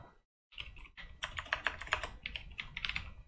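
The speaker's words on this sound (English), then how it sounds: "So if I just type in dabbing like this" Quick bursts of typing on a computer keyboard, close and clear, keys clattering in an uneven rhythm after a brief silent gap, with no talking.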